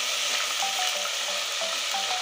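Chili paste frying in a pan, an even, continuous sizzle at moderate level with light stirring taps.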